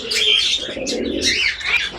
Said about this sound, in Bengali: কবুতর দেখলে মন জুড়িয়ে যায় কবুতরের ডাকগুলো শুনলে